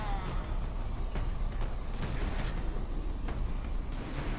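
Gunfire in Warhammer 40k: Space Marine 2, a steady stream of sharp shots and thuds over a constant heavy rumble of combat, loud and continuous throughout.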